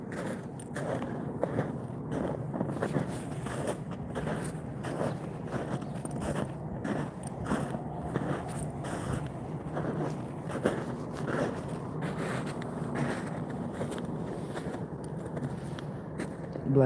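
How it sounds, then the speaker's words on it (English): Footsteps crunch steadily through snow on a solo hike to a river, with a regular walking rhythm that sounds close and continuous and carries no talking. "I love the crunching of the snow"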